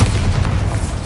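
A Bombarda blasting spell explodes in the Hogwarts Legacy video game, a loud, low booming blast that rumbles on for about a second, with no talking.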